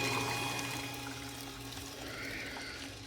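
A splash of green water-tracing dye is poured into standing water, giving a soft, quiet pouring trickle that fades into a faint wash of water sound.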